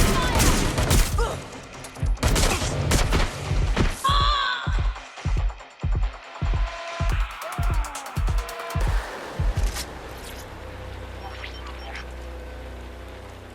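Rapid bursts of gunfire from the video game Watch Dogs Legion, about ten loud shots in a steady rhythm after an opening volley, with a voice shouting early on before the firing fades into quieter ambience.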